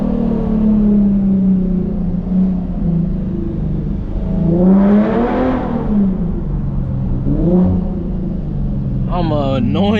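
Infiniti G37 coupe fitted with a full titanium Tomei exhaust, its VQ engine revving loudly in repeated rising sweeps with a rumbling idle between blips, close to the listener.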